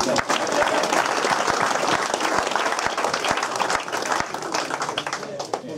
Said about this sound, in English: So again, a little round of applause for Ken